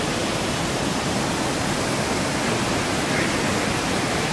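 A rocky waterfall that visitors use as a natural slide, its falling water giving a steady, dense, full-bodied roar that stays loud and unchanging throughout, with no voices.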